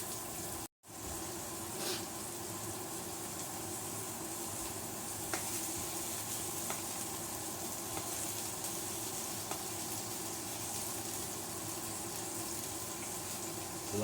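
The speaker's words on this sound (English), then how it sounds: "we want to reduce this sauce down to about a third of what it is now" Orange sauce for chicken à l'orange simmers and reduces in a pan, giving a steady, dense, close sizzling bubble that carries on evenly throughout.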